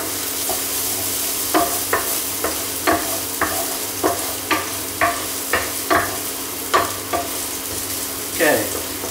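Garlic frying in olive oil in a pan sizzles steadily and close up, with a string of sharp metal stirring taps breaking through every second or so.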